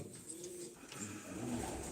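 Low, throaty coos from Sivas pigeons roll along steadily, close by, with soft rustling in the background and no talking.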